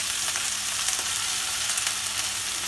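Ginger and garlic sizzle steadily in a piping-hot pan, a loud, dense frying crackle running without pause from start to finish, with no voices over it.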